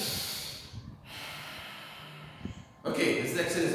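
A teacher demonstrates breathing for a respiration lesson, with audible breathy inhalations and exhalations up close, including a snort-like intake, with a louder breath burst near the end.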